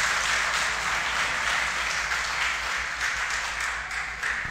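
A congregation at a church service breaks into loud, sustained applause that fills the room steadily for several seconds, with no voices standing out above it.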